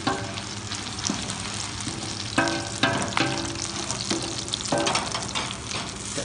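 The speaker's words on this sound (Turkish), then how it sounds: "Soğanımızı yine tekrar kavurmaya aldık." Onions fry in a pot for Turkish onion soup, sizzling steadily while a spoon stirs them in several distinct scraping, clattering strokes, heard close with no talking.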